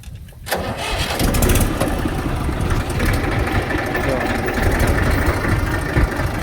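A tractor engine runs loud and steady after a brief quiet opening, a rough continuous rumble that holds throughout while the tractor is being lowered back onto a jack.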